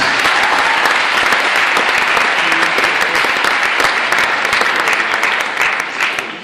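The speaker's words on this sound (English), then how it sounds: "let's give them all another big round of applause" A big round of applause from a crowded audience at a senior lock-in stage show, sustained, loud and dense clapping that continues throughout before tapering slightly at the end.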